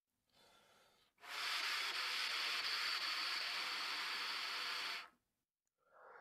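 A long, airy hiss blown through a trumpet while the valves are moved, carrying a faint pitched tone inside the breath, held steadily for several seconds between brief quiet pauses.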